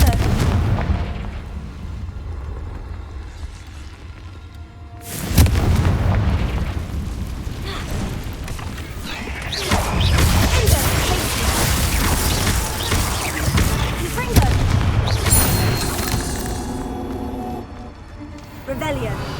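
Repeated fiery Confringo blasting spell explosions in Hogwarts Legacy, loud booming bursts and crackling impacts spread across the stretch, with a voice talking over the action.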